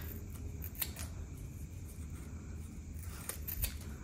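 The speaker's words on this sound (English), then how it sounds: "Just cut them in the middle there." Scissors snip through cotton sew-in labels in a few quick, crisp cuts, faint and close over a low background hum.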